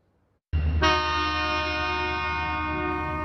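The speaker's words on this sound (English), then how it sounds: "As the train rumbles past 4th and Evans" A train near 4th and Evans sounds a loud, sustained horn blast that starts abruptly over a low rumble and holds steadily, close by.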